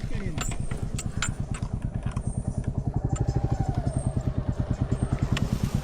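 A scooter engine idles close by with a steady, rapid putter that grows slightly stronger partway through, while voices speak over it.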